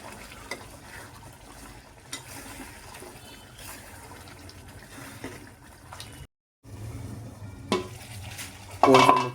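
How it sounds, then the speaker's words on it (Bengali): Beef curry in a pot stirred with a utensil after the lid comes off, giving scattered scrapes and clinks against the metal over a low simmering bubble, with a brief silent gap and a louder clatter near the end. "ঢাকনা তুলে আমরা একটু নেড়ে চেড়ে নিব"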